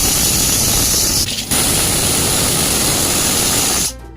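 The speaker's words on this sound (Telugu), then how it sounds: "కుక్కర్ మూత వేసి 2 విజిల్ వచ్చే వరకు ఉడికించండి." A pressure cooker on the stove holding boti (goat tripe) curry vents steam in a loud, steady hiss that runs almost unbroken for about four seconds, then cuts off abruptly.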